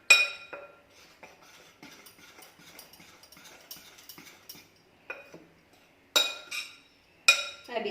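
Sifted batter for an eggless chocolate cake is stirred in a bowl, a spoon or whisk clinking and scraping against the sides in quick, irregular taps, closer and louder in short bursts toward the end.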